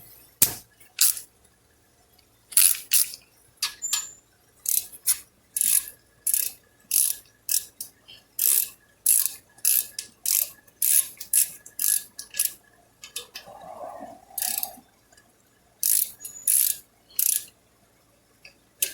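A ratchet tightens the brake caliper bolts on a Chevy Malibu, heard as repeated close bursts of quick clicking strokes with short pauses between them and no talking.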